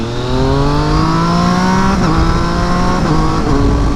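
A Triumph Daytona 675R motorcycle engine revs up hard, its pitch climbing steadily and dipping briefly at shifts, loud and close throughout with no talking.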